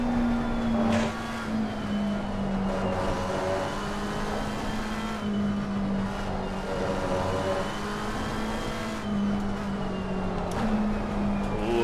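A McLaren 720S GT car in Assetto Corsa Competizione lapping Suzuka, its engine droning steadily and loudly throughout with rising and falling pitch through gear changes and corners, no talk over it.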